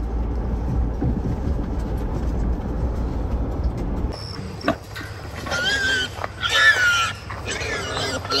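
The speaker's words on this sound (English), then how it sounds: "we got a bunch of pigs to go get out of a trap" Wild hogs caught in a trap squeal and grunt in sharp, loud bursts over rustling and clanking, following a stretch of steady low rumble.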